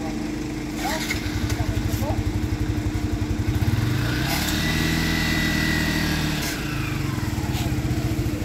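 A motorcycle arrives with a rhythmic, close engine putter that swells and then eases off as it pulls up, with people talking over it.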